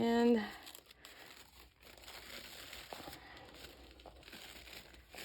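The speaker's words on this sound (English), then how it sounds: "my easiest way to get these apart is putting some Scotch tape on" Close, soft crinkling and tearing as the plies of a three-ply paper napkin are peeled apart with Scotch tape, irregular rustles running throughout after a brief tone at the start.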